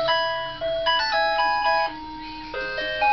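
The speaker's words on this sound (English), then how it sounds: "Steph, do you like this ringtone?" A synthesized electronic ringtone plays a bright, beeping melody of sustained tones that shift pitch every fraction of a second, clear and close with no talking.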